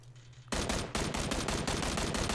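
Rapid burst of rifle gunfire in PlayerUnknown's Battlegrounds, loud close shots fired in quick succession after a brief quiet lead-in, with no talk over them.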